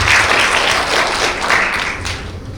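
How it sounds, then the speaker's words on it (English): Conference audience applauding to welcome a speaker onto the stage at a digital economy event, loud sustained clapping from a large crowd that holds steady then tapers slightly toward the end. "So please give him a big round of applause and please welcome him onto the stage."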